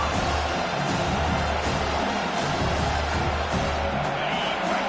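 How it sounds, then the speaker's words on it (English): A stadium crowd in the College Football 25 video game roars and cheers for the defense on third down, a dense, loud, sustained wash of noise that swells with occasional whoops. "Decibels rising as the crowd gets behind this defense on third down"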